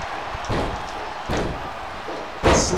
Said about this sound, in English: slams his head on the mat three times.